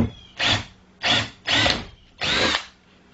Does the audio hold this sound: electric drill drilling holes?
yes